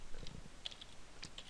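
A few scattered keystrokes on a computer keyboard, quiet and close, with short gaps between taps over a low background hum.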